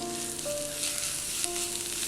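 Mushroom dry fry sizzling steadily in a pan as sliced green chilli and coriander leaves are stirred in, a close, continuous frying hiss with faint scraping, no voices.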